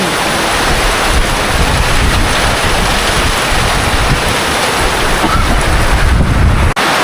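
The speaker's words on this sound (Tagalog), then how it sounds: "Malakas ang ulan." Heavy rain pours down on a house in the Philippines, a loud, continuous roar of downpour with no letup and no voices.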